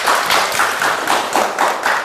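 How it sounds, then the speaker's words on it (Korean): Lecture-hall audience at a Korean real-estate agent exam law class claps at the start of the session; a short burst of scattered hand claps with a loose rhythmic pulse, close and fairly loud, with no talking over it. "박수 한번 쳐주시고."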